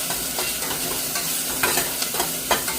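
Onions and green chilies stirred in a hot pan, with a steady sizzle of frying broken by several scraping strokes of the spoon, close and clear with no talking.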